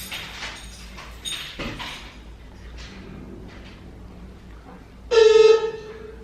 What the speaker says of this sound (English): just listen to this ridiculous sound that our doorbell makes